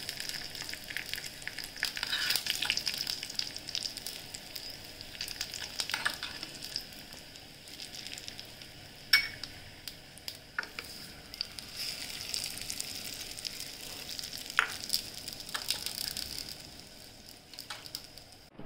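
Spinach tipped into hot oil with garlic and green chilies already fried, giving a steady close sizzle with bursts of crackle and a few stirring scrapes, running without pause and without voices.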